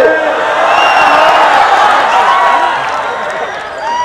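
Audience at an Urdu mushaira ghazal recital breaks into loud, sustained applause and cheering, a dense crowd roar with scattered whoops that carries steadily through the stretch, with no single voice standing out.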